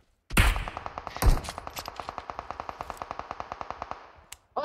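Rapid automatic gunfire in a battle royale game: a couple of heavy shots, then a long even burst of about thirty close, sharp reports that stops abruptly, with no voices over it.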